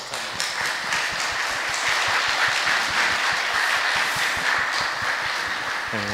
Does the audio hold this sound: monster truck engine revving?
no